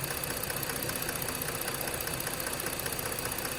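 A 2018 Ford Flex engine idling during a thermostat replacement and coolant refill, a steady, even mechanical hum with a faint rhythmic ticking, heard close and unbroken.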